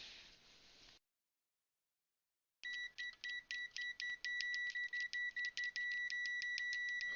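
A budget LCR meter in continuity test mode gives off a high, thin electronic tone, first as a short steady beep, then, after a silent gap, as rapid repeated chirps that merge into a continuous beep.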